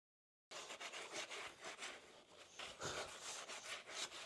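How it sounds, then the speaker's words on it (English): Stuck wood being scraped off the floor of a van, heard as a close, rough, continuous rasping with repeated strokes after a brief silence, loud and alone. "I am going around the floor of the van and just scraping up all the wood that is stuck to the bottom"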